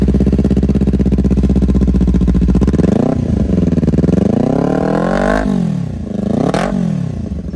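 A Kawasaki Ninja 400's aftermarket Akrapovič full-system exhaust burbles at idle, then is blipped through several sharp revs that rise and fall, loud and close.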